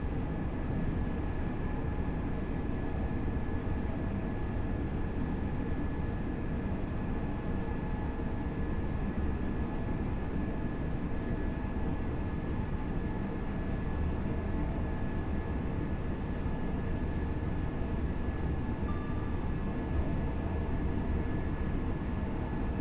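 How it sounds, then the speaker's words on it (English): A train runs on the Grantham to Doncaster route in Train Sim World 4, giving a steady, unbroken low rumble with a faint high tone throughout and no voices. "just purely because this train's quite difficult to stop."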